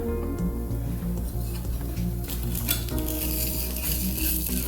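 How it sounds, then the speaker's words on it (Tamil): Onion rava dosa cooking on a pan over a slow flame, steady sizzling and frying with light metallic taps of a utensil throughout, close and continuous. "ஸ்லோ ஃப்ளேமில் வச்சு மெதுவாக வேக வச்சு எடுக்கணுங்க."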